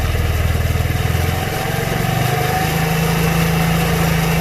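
Motorcycle engine idling close by, its rapid putter lifting in pitch as the carburetor adjustment screw is opened a quarter turn, revs rising and holding steady and loud.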